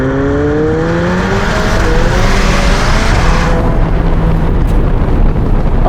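A McLaren 720S Spider with a Novitec widebody kit accelerates hard, its engine loud and close with rising revs that shift up, mixed with strong wind rush.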